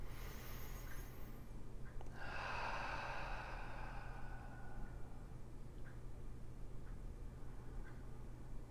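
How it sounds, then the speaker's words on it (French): A single long, deep breath drawn during a guided meditation, soft and faint, rising and fading over a few seconds against a quiet background hum. "vous pouvez terminer avec 3 belles grandes respirations profondes"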